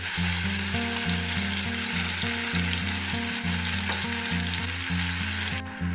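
Lean pork fries in oil in a covered pan, a steady loud sizzle and crackle of splattering fat over a repeating low hum, close and continuous.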